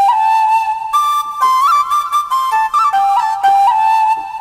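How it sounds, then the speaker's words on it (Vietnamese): Electronic organ set to a Vietnamese zither (đàn tranh) voice, playing a solo melody in bright, plucked-sounding notes with sliding pitch bends, heard up close and loud with no talking. "Đó, đấy là tiếng tranh này."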